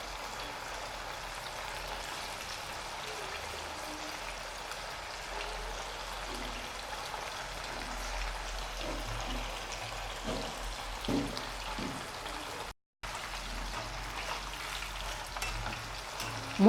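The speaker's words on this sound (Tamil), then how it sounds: "எண்ணெய் காய்ந்ததும் ஒவ்வொரு பீஸாக எடுத்து போட்டு ஃப்ரை பண்ணணும்." Marinated chicken pieces for Chicken 65 fry in hot oil, making a soft, steady sizzle with faint crackles and occasional small pops, quiet and close with no talking.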